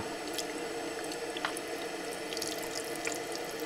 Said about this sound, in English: I'm gonna rinse it off with water